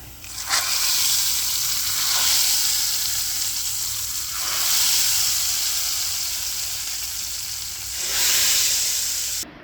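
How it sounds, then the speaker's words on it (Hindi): Hot oil tadka with small red chillies poured into moong and masoor dal in a serving bowl, giving loud bursts of sizzling and hissing that swell and fade in waves, with no talk. "इसके अंदर मैं छोटी जो सुरख मिर्च है वो डाल रही हूँ और अब तड़का लगाते हैं।"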